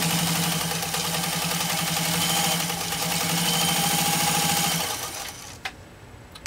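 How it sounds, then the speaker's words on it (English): A PFAFF 230 sewing machine stitches through a thick layer of Italian leather, a loud steady mechanical whir with rapid needle rhythm for about five seconds, then stopping, followed by a couple of sharp clicks. "I'll show you what this amazing machine can do with leather even as thick as this."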